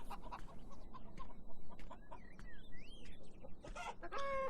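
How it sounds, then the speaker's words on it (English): Chickens clucking in a garden in the video game Beyond Eyes, a few short squawks and clucks scattered over a soft ambient background, moderately near and fairly quiet. "And this is chickens."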